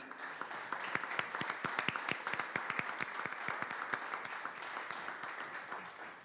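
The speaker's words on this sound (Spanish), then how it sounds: "pido un caluroso aplauso para don Gustavo de la Garza Ortega" An audience at a book presentation applauds warmly for the author, a dense run of clapping with distinct sharp hand claps standing out near the front, sustained throughout.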